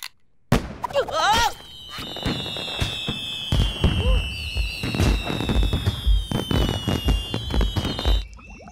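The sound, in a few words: fireworks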